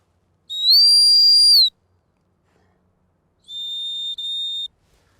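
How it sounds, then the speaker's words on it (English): Two clear, steady high-pitched blasts on a gun dog training stop whistle, the first long and loud, the second a bit softer and briefly broken, with silence between. "So that was my stop whistle"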